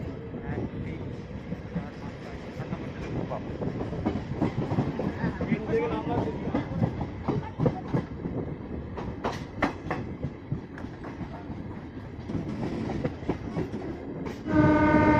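Local train running from Santragachi to Amta, wheels clattering steadily on rails with a continuous rumble, and a loud horn blast sounding near the end.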